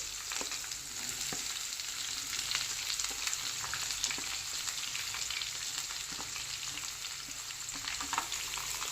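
Thinly sliced onions, three large ones, fry in oil with curry leaves, giving a steady close crackling sizzle with faint scraping stirs throughout, no voices.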